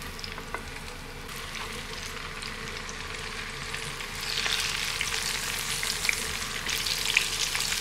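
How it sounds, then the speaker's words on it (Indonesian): Tempe fries in hot oil with a steady crackling sizzle that grows louder and busier halfway through, close by and without talk. "Nih batch berikutnya kita akan goreng tempe."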